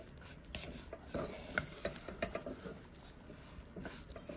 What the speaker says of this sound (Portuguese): Ele começa já a dar a cor de caramelo, né? A cor âmbar, ó. E aí você continua mexendo.